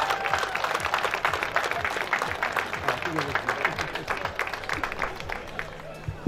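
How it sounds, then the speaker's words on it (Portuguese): Festival crowd at a bullfighting trophy ceremony applauding, many hands clapping in a steady, fairly loud wash with crowd murmur and some voices mixed in, ending with a sharp louder hit. "Mais uma vez, uma salva de palmas aqui"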